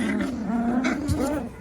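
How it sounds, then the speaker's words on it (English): Several 24-day-old puppies play fighting in a pile, giving off low rumbling growls and small squeaky yelps, close by and continuous through the moment. "the puppies are having a rumble"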